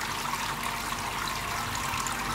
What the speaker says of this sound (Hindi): काफ़ी अच्छे तरीके से जो है इसमें झरना जो है मेरा बन के तैयार हो गया है।